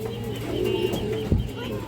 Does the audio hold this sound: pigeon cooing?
yes